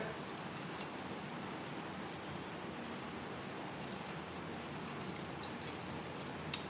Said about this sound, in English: Oh, it's really raining now, child.